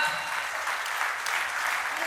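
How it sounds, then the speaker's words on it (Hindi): Dense, steady clapping from a crowd at a Diwali festival gathering fills the whole stretch, loud and continuous with no pauses. "क्या कहने, ठोकिए ताली, जिंदाबाद।"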